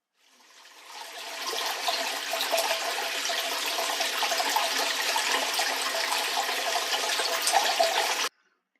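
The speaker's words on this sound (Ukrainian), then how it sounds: "всі впізнали, як лється водичка" Water pours in a steady, splashing stream for several seconds, swelling in at the start and cutting off abruptly.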